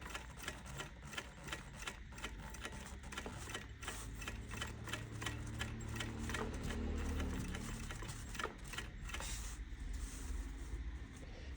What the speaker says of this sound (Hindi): इंटरलॉक मशीन उल्टी चलती है, नॉर्मल मशीन की तरह इसकी चाल सीधी तरफ नहीं रहती